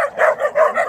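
Puppies barking and yipping up close, four loud high yaps in quick succession with short pauses between them.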